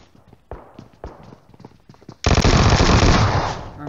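Rapid sustained automatic gunfire in PUBG Mobile, a loud continuous burst of shots after a few scattered sharp single taps and thuds.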